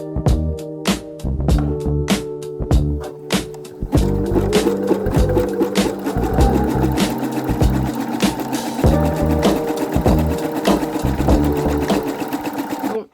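A domestic sewing machine stitches elastic onto jersey knickers in loud, fast runs that stop and restart, with brief pauses and clicks between bursts of stitching.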